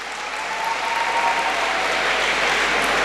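Dense, continuous applause from an audience at a school inter-house recitation and declamation competition, a loud, even wash of many hands clapping at once.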